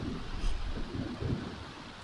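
Steady rain with low rumbling thunder in a Sims 4 game during a pouring-rain scene, a continuous wash of rain noise with a rolling low boom, moderately loud.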